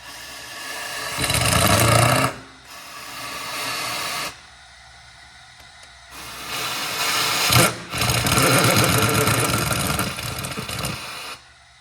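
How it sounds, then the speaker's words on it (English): Pneumatic air gun snugging cylinder head bolts on a Toyota/Scion 2.4L engine, with repeated loud bursts of hissing, rattling impact running a second or two each and separated by quieter pauses. "Then you can just go around and snug them with your air gun."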